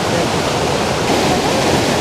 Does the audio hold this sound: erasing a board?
no